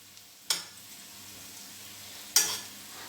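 A spoon stirs sauce in a pot in two brief scraping strokes about two seconds apart, quiet and close, with a faint low hum in between.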